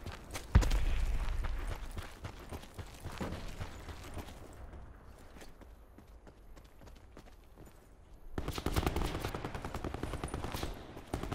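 Gunfire in Call of Duty Black Ops 4: bursts of rapid shots and sharp cracks, loud at the start, then a quieter stretch with scattered distant shooting, then heavy firing returning near the end.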